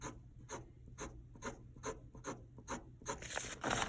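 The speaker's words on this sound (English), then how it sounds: "with hatching, I am holding my pencil close to the graphite so I can create those straight," Pencil hatching straight dark lines on paper, a rapid series of rhythmic scratchy strokes, roughly two per second, close and crisp with no talk.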